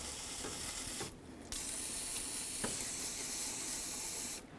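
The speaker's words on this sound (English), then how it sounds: "Now we're just going to spray down the general area where the water pump meets onto the engine." Cleaner is sprayed onto the engine where the water pump meets the block of a 1992-2000 Chevy Tahoe, a long faint hiss that breaks off briefly in the middle and stops near the end, with no talking.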